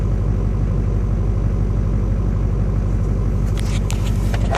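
A 2001 Chevy Duramax LB7 diesel idling after a cold start at minus ten degrees in snow, 275,000 miles on it; a steady, loud, evenly pulsing clatter with faint rattles near the end.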